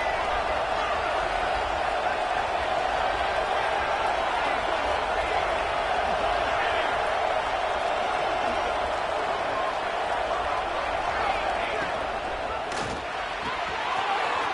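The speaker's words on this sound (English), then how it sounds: "It's early, but this crowd is fired up. Listen to this noise here." Fired-up crowd at a USC college football game roars in a steady, dense wall of noise throughout, loud and unbroken, with a brief sharper knock near the end.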